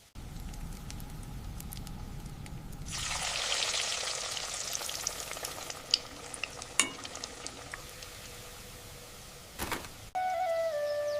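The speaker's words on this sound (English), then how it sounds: "Now we fry them until they are perfectly golden." Batter-coated chilies for mirchi bhaji dropped into hot oil, which erupts into a loud, dense frying hiss that holds steady for several seconds, broken by a few sharp clicks and pops near the end.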